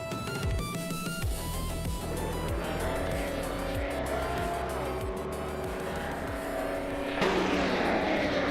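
A 1971 March 711 Ford race car circulates at Sochi Autodrome, its engine loud and close, climbing in pitch again and again through repeated gear changes, with a brief surge of extra roar near the end.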